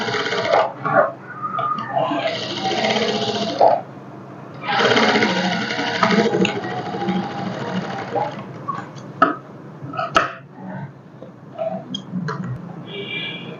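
A domestic sewing machine stitches piping cloth onto a blouse lining in a few bursts of rapid mechanical whirring and ticking, separated by pauses and light handling clicks.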